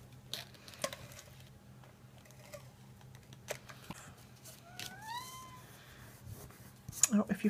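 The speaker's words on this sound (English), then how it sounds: "if you heard that, that was the cat." A cat gives two short, rising meows near the middle, faint and nearby, amid quiet tapping and rustling.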